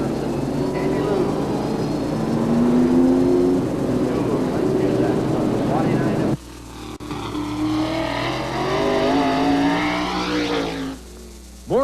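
Stock cars race at the Beech Ridge/Oxford speedway in 1989, engines droning and revving loudly as they pass, the roar shifting in pitch and intensity, with a crowd and commentary faintly mixed beneath.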